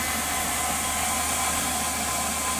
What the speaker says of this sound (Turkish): Makineyi geriye doğru verdi Berkat ustamız.